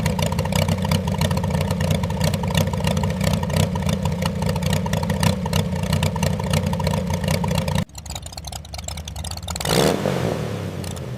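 A Honda Formula One car engine idles in a closed workshop, a loud, steady mechanical drone with a quick rhythmic pulse. It breaks off abruptly partway through, then comes back rougher with a brief swell.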